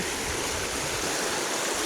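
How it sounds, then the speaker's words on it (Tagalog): Strong mountain stream water rushes past at a rural spot in Santo Domingo, Albay, a dense continuous roar of flowing current, loud and close, steady throughout with no voices. "Lakas ang agos o galing bundok."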